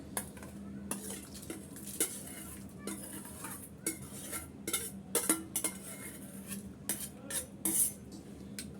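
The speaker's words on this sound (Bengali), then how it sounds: "এখন যে আমি এই চিরাটা ভিজিয়ে রেখেছিলাম সেই চিরাটা সম্পূর্ণ আমি এই দুধের মধ্যে দিয়ে দিলাম" Soaked flattened rice is tipped into boiling milk in a pot, giving a run of close clinks, scrapes and stirring knocks of utensils against the pot over a low bubbling background, with no talking.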